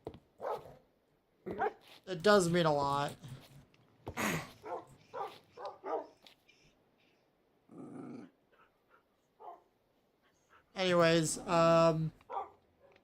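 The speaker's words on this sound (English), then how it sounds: "these dogs, these wolves." Minecraft wolves bark, growl and whimper in short bursts between a man's chatter, the dog sounds loud and near, with a low growl standing alone partway through.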